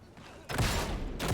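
Burst of sustained video game gunfire from a shooter, loud and continuous after a brief quieter lead-in, with a second surge near the end.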